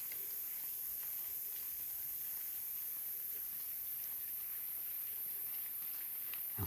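Steady rain falling outdoors, a continuous dense hiss with scattered drops and ticks, even and moderately faint throughout with no voices.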